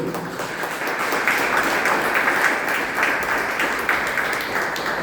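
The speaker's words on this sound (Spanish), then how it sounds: "Bríndele un fuerte aplauso al Señor Jesucristo." A church congregation applauds loudly and steadily, sustained clapping filling the room without pause.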